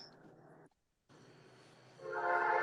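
A train rolls by in the background with a horn, its low rumble dropping out briefly before returning and swelling into a louder sustained horn blast near the end.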